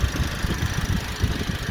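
A Toyota Vios engine idles steadily after a service, a close, even low rumble with a faint rhythmic knock and no speech over it.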